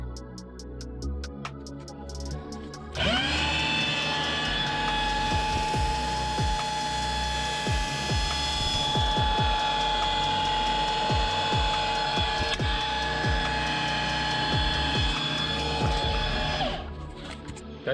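Drill spinning an oil pump primer to prime the oil system of a newly built engine in a 1965 Jeep Wagoneer, a loud steady mechanical whine with ratcheting clicks that starts abruptly and runs for about fourteen seconds before stopping.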